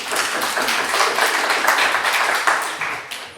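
Audience applause at a panel event, a short burst of many hands clapping, fairly close and loud, fading slightly toward the end.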